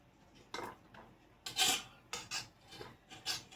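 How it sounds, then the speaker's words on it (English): Knife trimming flesh away from the core of a pineapple, a series of short scraping, rasping cuts in an uneven rhythm, close and fairly quiet. "I'm just going to go around and trim the core"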